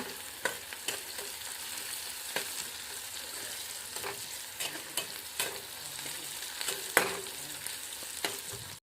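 Leftover cooked rice fries in a pan on a village kitchen stove, a steady soft sizzle broken by scraping clicks and taps as it is stirred, fairly faint and with no talk.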